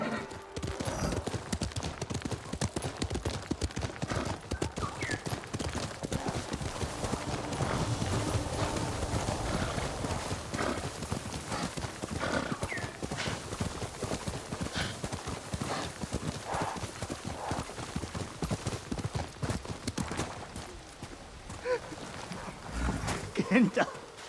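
Horse hooves clip-clop steadily and briskly in the game Ghost of Tsushima, a dense, close rhythm running throughout with a few soft whinnies mixed in.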